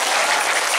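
A brief, dense burst of crowd applause at a religious talk in Cigarukgak, loud and close, lasting under a second.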